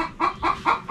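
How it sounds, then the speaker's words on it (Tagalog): A chicken clucks close by, four short rhythmic clucks in quick succession, alone and fairly clear. "May manok pa."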